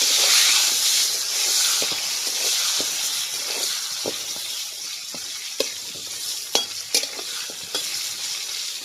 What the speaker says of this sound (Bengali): এবার পটলে নুন পরিমাণ মতন হলুদ দিয়ে নেড়ে নেব।